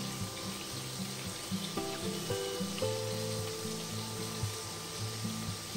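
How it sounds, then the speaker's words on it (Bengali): Large tiger prawns, tails left on, frying in a pan, with a steady close sizzle running throughout and a few faint clinks and tonal kitchen sounds underneath. "চিংড়ি মাছটা একটু ভেজে তুলে নিই।"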